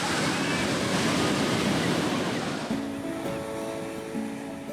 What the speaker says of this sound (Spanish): Puedes surfear en las olas de Muizenberg.